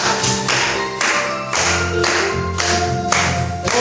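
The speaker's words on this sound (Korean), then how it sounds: "박수 치면서" Rhythmic congregational clapping in a Korean church service, steady sharp beats roughly twice a second over music with sustained chords and low bass, loud and close.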